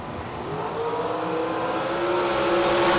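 A drag race car's engine holds a loud, steady high roar at the track, its pitch climbing gradually as the throttle is held open, filling the whole stretch without a break.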